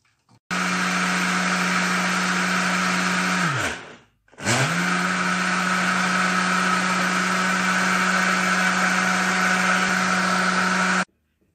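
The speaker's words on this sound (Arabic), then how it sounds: "ونخلط كلشي في الطراب الكهربائي." An electric mixer whirs steadily through cake batter with oil and vanilla, stops briefly and spins down, then starts again at the same even high-pitched whine until it switches off.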